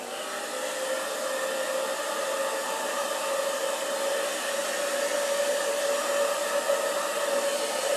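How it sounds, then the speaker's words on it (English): A blow dryer runs continuously at a steady, loud pitch while drying Mod Podge, a constant whirring hum with no talking over it. "Now I'll get the blow dryer out."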